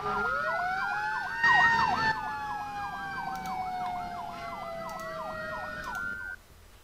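An ambulance siren in the Emergency 4 game wails in a steady, repeating two-tone pattern, loud and close, then cuts off near the end.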